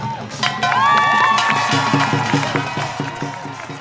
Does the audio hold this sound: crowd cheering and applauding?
yes